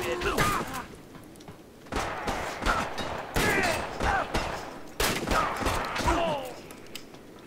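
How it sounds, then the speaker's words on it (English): Shotgun fired from the hip in the video game Bleedout, repeated loud blasts in quick irregular bursts with short pauses, mixed with other game sounds. "It's just firing from the hip."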